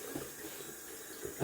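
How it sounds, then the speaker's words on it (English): Running water from a tap rinses slick shaving lather off fingers at a sink, a soft steady hiss and splash close by, with a brief louder splash at the end. "Trying to rinse it off my fingers down here."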